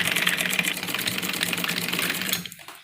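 Sewing machine stitching a printed suit, a fast continuous mechanical whirr of the needle running close up, stopping abruptly near the end.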